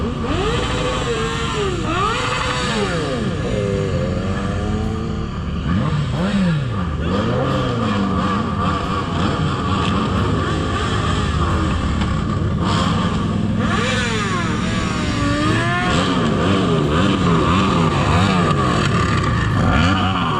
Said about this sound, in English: judging by the number of bikes arriving tonight